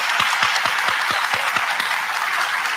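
An audience applauds at a live conversation event, a dense steady wash of many hands clapping with some distinct nearby claps, sustained without a break.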